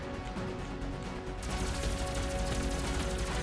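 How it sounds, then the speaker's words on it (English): A pulse rifle firing in the video game Doom, rapid continuous shots that grow louder midway through, dense and close amid frantic action. "Pulse rifle it is."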